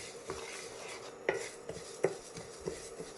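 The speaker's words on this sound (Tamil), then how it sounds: "கருப்பு உளுந்து நல்ல செவந்து வாசம் வர்ற அளவுக்கு வறுக்கணுங்க" Black urad dal dry-roasting in a pan, stirred constantly over medium flame, with a soft background of grains shifting and several distinct scraping knocks of a spoon against the pan, alone with no talk.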